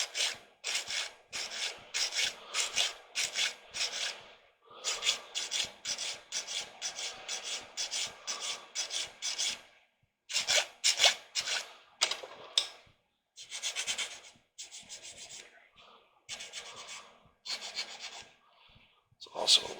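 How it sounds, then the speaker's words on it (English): Sanding on a small plastic engine part for a 1/16 scale Trumpeter JagdTiger tank model, quick close rasping strokes in repeated bursts with short pauses between, faint and dry against a quiet room. "So what I'm going to do is I'm going to sand a smidge off of this side right here."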